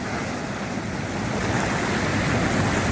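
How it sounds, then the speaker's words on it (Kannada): Steady roaring surf fills the air at Kokolem beach, a continuous wash of breaking waves mixed with wind, growing slightly louder toward the end, with no talking. "ಅಲ್ಲಿ ಅಲೆಗಳು ನೋಡಿಲ್ಲ ಹೆಂಗೆ ಹೊಡ್ಕೊಳತ್ತಾವು"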